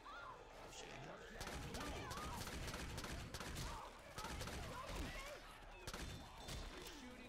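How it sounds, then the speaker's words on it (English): Rapid bursts of video game gunfire crackle and thud in a dense, sustained volley, with players' voices faintly mixed in under the shooting. "You're shooting me again."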